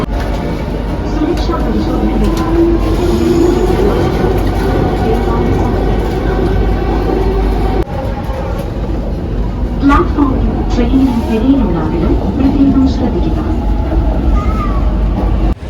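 A metro train heading to Tripunithura terminal rumbles steadily and loudly from inside the carriage, while a recorded station announcement plays over the constant rolling drone.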